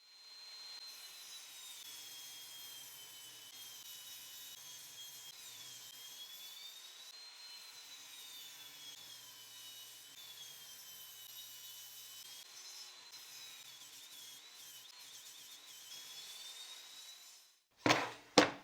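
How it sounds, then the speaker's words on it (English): A power saw trims thin strips from pallet wood pieces, a steady high whine running for many seconds with a faint rumble beneath, ending in a couple of louder knocks. "These 2 pieces will be trimmed on both sides, removing just a few millimeters to make them even."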